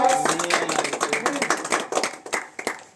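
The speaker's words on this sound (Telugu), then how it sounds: "ఒకసారి గట్టిగా చప్పట్లు కొట్టాలి" An audience claps loudly and steadily at a prize ceremony for a bullock-pulling contest in Arlagadda village, with dense overlapping hand claps sounding close and continuous throughout.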